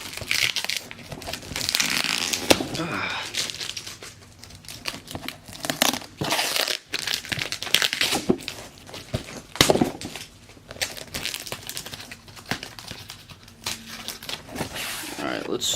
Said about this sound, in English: Just gotta really tape this up.